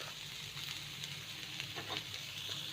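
Shredded cabbage sizzling and frying on a hot tawa for pulav, a steady close hiss with faint scraping stirs, no talking.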